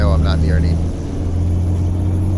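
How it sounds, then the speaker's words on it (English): Simulated truck engine brake in Euro Truck Simulator 2, a loud steady low droning rumble that holds throughout, with talk over parts of it. "I'm gonna bring the engine brake on right here"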